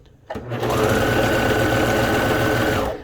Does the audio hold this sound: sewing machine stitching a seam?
yes